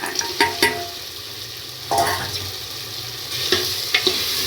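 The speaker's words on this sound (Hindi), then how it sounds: "जमीकंद डाल करके 2-3 मिनट तक भूनूंगी।" Elephant foot yam being roasted with softened tomatoes in a pan: a steady sizzle with a few loud scrapes and knocks as the pieces are stirred.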